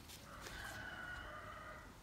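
A rooster crows once on a flooded property, a faint, drawn-out call heard at a distance over low background noise.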